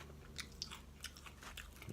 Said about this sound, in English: The bacon was good. Kind of hard though. Nice crunch.